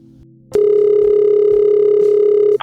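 A telephone call tone sounds as one loud, steady, unbroken electronic tone lasting about two seconds, close and alone, ending abruptly as another sound begins.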